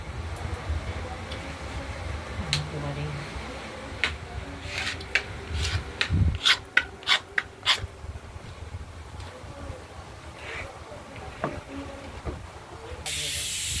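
A kitchen pressure cooker hisses loudly as steam releases, with several sharp whistle bursts in the middle and a steady hiss near the end; a person talks briefly in the background.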